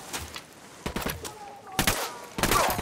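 Bursts of automatic gunfire during a firefight in Tom Clancy's Ghost Recon Wildlands, loud and close, in about three separate volleys with short quiet gaps between them.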